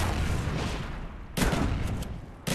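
Two heavy booms of a frag grenade going off in a first-person shooter game, each a loud burst followed by a rumbling tail, the second landing a little over a second after the first.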